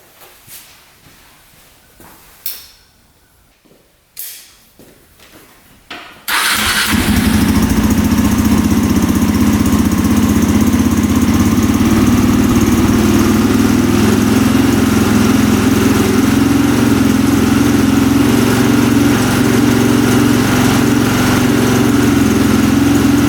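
A 625cc supermoto motorcycle engine, freshly repaired at the carburetor, catches after a few quiet seconds of handling and then idles loudly and steadily up close with a constant low rumble.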